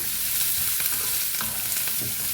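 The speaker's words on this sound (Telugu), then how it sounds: "వేగేటప్పుడే అల్లము, ఎల్లిపాయ వేసుకోవాలి బాగా." Ginger and garlic fry in hot oil for a Kerala-style chicken curry, with a close, steady, dense sizzle and a few stirring scrapes and no talk.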